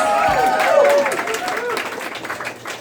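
A speaking voice gives way to a short burst of crowd clapping from an audience at a Rhode Island lieutenant governor campaign announcement held at the Wild Colonial venue.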